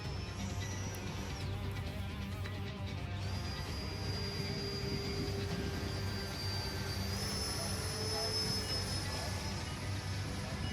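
An FMS 80mm Rafale RC electric ducted-fan jet rolling down a runway in a crosswind, giving a steady high whine that shifts in pitch, heard from a distance under wind and outdoor noise.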